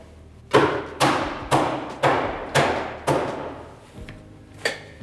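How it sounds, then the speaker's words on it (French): Hammer blows on the sidewall of a rally tyre being changed, seven sharp thuds in a steady rhythm, each ringing briefly and decaying before the next, close and fairly loud with no talk. "Avec un marteau, on tape sur le flanc."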